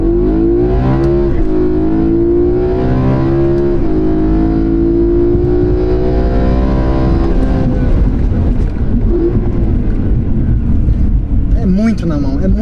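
A 2012 BMW M3 E92 with the S65 engine and DCT gearbox revs up close, a loud, sustained engine note climbing steadily in pitch, then settling and wavering toward the end.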